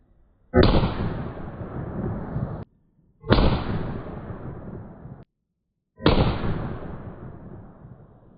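Three loud pistol shots fired one after another, each a sharp blast with a ringing tail of about two seconds, from a handgun with a 4 5/8 inch barrel shooting a 125 grain load with non-magnum primers.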